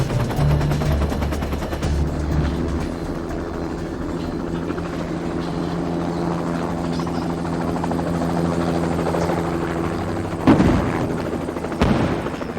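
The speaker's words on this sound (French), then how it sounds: "Les hélicoptères de secours sont de nouveau la cible des tirs anti-aériens." Anti-aircraft gunfire aimed at rescue helicopters in a war setting, a loud, continuous rumbling barrage with a steady low throb, broken by a couple of sharp, heavy bursts near the end.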